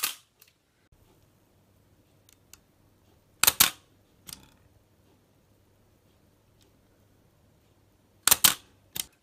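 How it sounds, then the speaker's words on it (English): An SLR film camera's winder advancing the film and cocking the shutter, heard as a few sharp mechanical clicks and clacks spaced seconds apart over near silence. "when you wind the winder to wind the film on, not only is it winding the film on, you see the shutter's being cocked"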